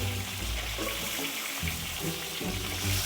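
Chicken pieces fry noisily in a pan, giving a continuous loud hissing sizzle with low bubbling crackles throughout.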